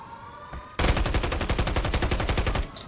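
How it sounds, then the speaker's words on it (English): Sustained automatic gunfire in Warzone 3 on Rebirth Island, played in third person: a sudden loud burst of rapid, evenly spaced shots after a quiet moment, running for about two seconds before cutting off. "I'm over here shooting at this"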